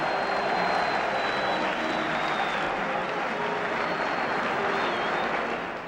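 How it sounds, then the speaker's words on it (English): Football stadium crowd as West Ham United walk out onto the pitch against Newcastle United in March 1979, a broad, constant roar of cheering and clapping with faint whistles riding above it, steady from start to finish. "there's the crowd as they go out onto the pitch."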